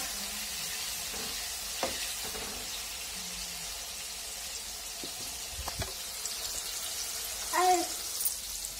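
Green chillies frying in oil for mirchi bhaji, a steady bubbling sizzle with occasional clinks and small pops, moderately loud and continuous.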